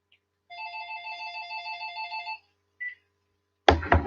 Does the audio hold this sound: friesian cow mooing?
no